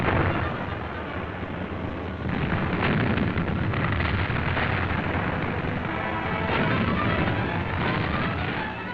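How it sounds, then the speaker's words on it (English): Artillery shelling of German-held San Leonardo in WWII, a dense, continuous roar of heavy gunfire and explosions, loud and close, with no pauses. "artillery rained shells on the German-held San Leonardo"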